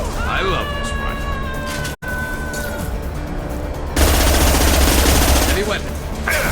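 Rifle fire in Mass Effect 2 Legendary Edition, loud sustained automatic bursts with a brief cutoff midway, then a denser stretch of firing, set over game sound effects and a talking voice.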